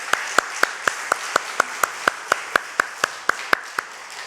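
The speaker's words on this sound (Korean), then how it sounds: "우리 성도님들이 찬양대의 대원들을 향해서 힘찬 격려의 박수 한번 보내주시면 감사하겠습니다" A church congregation claps for the choir after a hymn, a steady rhythmic beat of about four claps per second, sharp and even, standing alone over a soft background wash.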